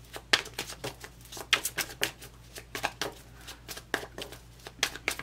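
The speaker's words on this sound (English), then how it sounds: "I feel like I need to shuffle a little bit more for you" Tarot cards being shuffled by hand, a quick run of soft, papery riffles and slaps in uneven bursts, close and fairly quiet, with no talking.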